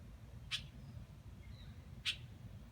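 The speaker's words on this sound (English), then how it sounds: "Quit chirping at me." A small bird in a yard gives two sharp, high chirps about a second and a half apart, close but faint against a low background rumble.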